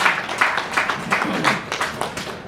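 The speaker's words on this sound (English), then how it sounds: "Can we give another round of applause to Professor Mande?" Audience applause at a university inaugural lecture, honouring the lecturer: a steady, dense wash of clapping that swells and eases in regular waves across the whole stretch, with no voices over it.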